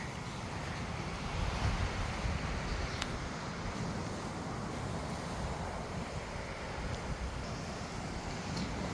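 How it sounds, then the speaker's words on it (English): Ocean surf rolls steadily beyond the mangroves along a beach nature trail at Clam Pass in Naples, Florida, a faint, continuous distant wash mixed with light wind noise, with no voices. "Can you hear the ocean? It's right on the other side of these mangroves."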